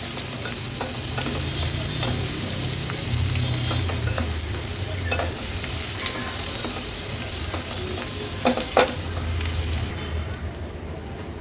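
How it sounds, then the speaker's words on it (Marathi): A medium-sized onion cooking in oil in a pan over a low-to-medium flame, giving a continuous close sizzle and crackle with occasional stirring scrapes and ticks throughout. "मीडियम साईजचाच एक कांदा घेतला आहे तो ॲड करूया कांदा पण व्यवस्थित शिजवून घेऊया"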